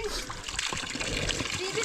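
Cold, clean spring water flows beside a mountain village path, a loud continuous splashing rush while people talk close by over it.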